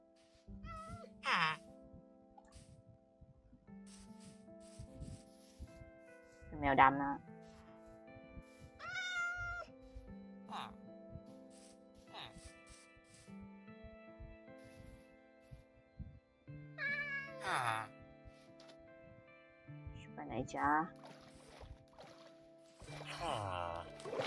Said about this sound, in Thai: นี่แมว